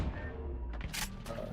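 Gunfire in the tactical shooter Valorant during a competitive esports match, with rifles, SMGs and Sheriff pistols in play: a couple of sharp, close shots crack over a low rumbling game background within a second and a half.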